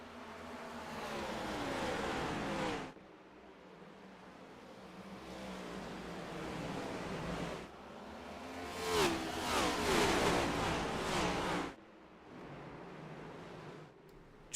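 Race cars in a Richmond oval sim racing game roar under green flag, a steady engine drone that swells into louder, higher revving bursts midway before settling back, with no talk over it.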